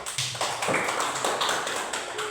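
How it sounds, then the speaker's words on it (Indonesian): Students in a mathematics classroom clap for a classmate, a dense patter of many small hands close by, sustained for a couple of seconds without talk. "Tepuk tangan untuk teman dia."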